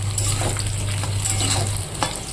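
Potatoes frying in a pan, a loud continuous sizzle and bubbling oil close up, with a low steady hum underneath and light stirring scrapes.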